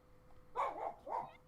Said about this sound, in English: my dogs are voicing their displeasure about that, apparently